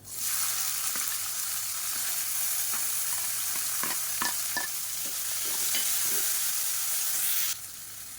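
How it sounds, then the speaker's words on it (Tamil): Spices, curry leaves, chopped onion and green chillies fry in hot oil in a pan, a steady close sizzle broken by scattered scraping stirs and spatula taps, with no talking. "இப்போ பாருங்கள் எல்லாமே நல்லா பொரியுது"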